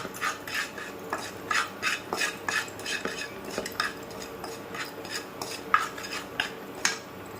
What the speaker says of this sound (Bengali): এক চামচের থেকে কম একটু নুন দেব তারপর এটা ভালো করে নাড়িয়ে নেব